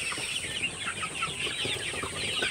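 Chickens clucking inside a chicken house, a steady dense chorus of overlapping bird calls at even loudness throughout, with no talk.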